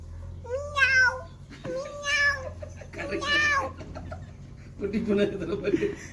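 A voice mimics a cat, giving several drawn-out meows one after another, close and clear, with a low hum underneath.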